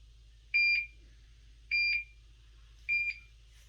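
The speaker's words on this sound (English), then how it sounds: "We're going to hit the power button on. It's going to give us a series of beeps." Three evenly spaced electronic double beeps, high and clear, repeating about once a second over a low steady hum, as an infusion pump powers on.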